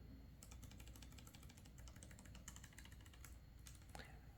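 Steady, rapid typing on a Cherry KW X ULP low-profile mechanical keyboard, light clicky keystrokes in an irregular rhythm, close up over a constant low background hum.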